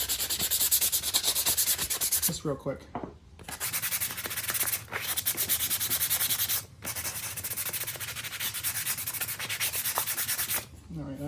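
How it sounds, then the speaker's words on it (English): Light hand sanding of wood in a DIY shop for a shop vac hose holder, a continuous close rasping rub with a few brief pauses between strokes; someone speaks briefly. "get just a light sanding"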